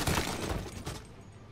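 A short burst of sharp, crackling gunfire in the Mafia remake video game, with a shattering edge, loud and close, then quickly fading.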